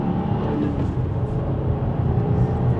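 A 2025 Subaru WRX tS with manual gearbox accelerating from second gear, a steady, loud, low engine rumble building evenly inside the cabin with no talking.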